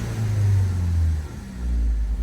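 A car engine with a gasoline multiport and direct-injection fuel system runs at a steady 1800 to 2000 RPM during a fuel and induction cleaning service, giving a low, close rumble that dips briefly and then rises again.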